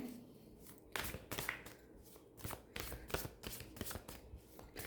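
Oracle cards are shuffled by hand for a reading, giving a series of quiet, crisp riffling bursts in an uneven rhythm, close by and faint, with no talking.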